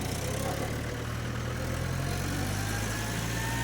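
A fully loaded Mahindra tractor engine idles with a steady low rumble and constant vibrating drone, loud and unbroken throughout.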